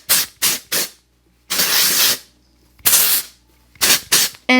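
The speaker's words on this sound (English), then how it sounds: "This is the time that I grab my ORIBE texture spray." Several short hissing bursts of ORIBE texture spray misted onto freshly curled hair, some quick and clipped, others held for about a second, close and loud with pauses between them.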